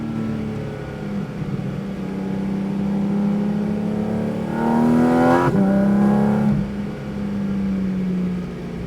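A Porsche Cayman GT4 RS races on a track at Superspeed Orlando. Its engine holds a loud, steady high-revving note that climbs in pitch, cuts sharply at a gear change, then pulls again, with no voices.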